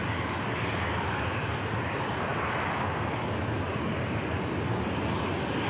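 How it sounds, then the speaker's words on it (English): A Scandinavian airliner, an Airbus Neo bound for Copenhagen, taxiing at Manchester Airport on a warm, breezy morning: a steady broadband engine roar mixed with wind noise, constant and moderately loud with no distinct peaks. "It's got a Scandinavian aircraft as well on the taxi out."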